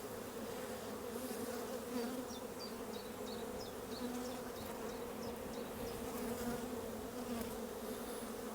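Honeybees buzz steadily around an open hive during an inspection, a close, continuous hum with a few sharper ticks and clicks above it.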